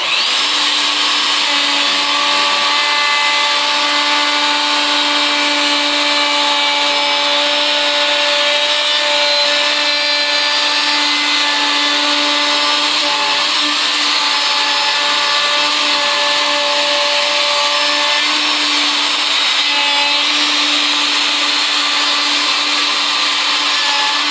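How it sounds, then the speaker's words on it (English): A router follows a template jig to cut wood, its steady high-pitched whine running loud and continuous with the grinding hiss of the bit biting into the workpiece throughout. "I take my router, drop it in the hole."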